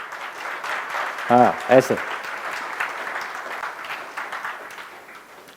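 Audience clapping at a Parichay Shivir session in Nathdwara, a steady mid-level patter of many hands running through the clip, with a couple of brief voiced sounds near the start and someone speaking briefly over it.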